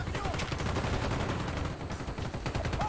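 Rapid bursts of gunfire from Call of Duty: Black Ops ring out loud and dense throughout, with repeated shots layered over game noise and no break.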